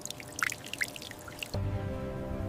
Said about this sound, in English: Water reaches strawberries drop by drop.